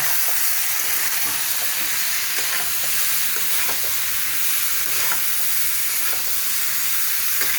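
Fried soybean chunks and potatoes stirred into sizzling spice paste in a pan, a continuous frying hiss with repeated scraping stirs of a spoon, close and steady with no talk.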